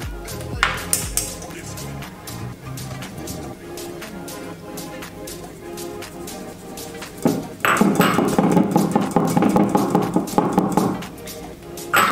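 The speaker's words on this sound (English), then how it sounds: "We will mix the flour." Flour is mixed into fortune cookie batter in a bowl: light clinks and scrapes at first, then loud, steady, rhythmic scraping and knocking in the second half.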